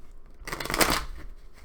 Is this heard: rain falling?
no